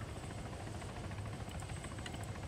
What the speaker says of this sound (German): der Heli ist gerade in der Luft hinter der Bahn